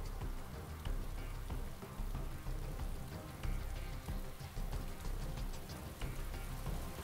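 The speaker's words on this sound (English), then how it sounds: "Now it's gonna start to rain again." Rain falls in the survival video game DayZ as a dense, steady patter of drops, a continuous hiss with scattered sharper taps, fairly quiet and without voices.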